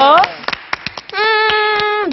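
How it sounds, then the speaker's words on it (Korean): Children in a kindergarten program clap in a short burst of several sharp, close hand claps, framed by an adult's sing-song voice before and after. "야, 우리 빨간 팀 친구에게 박수!"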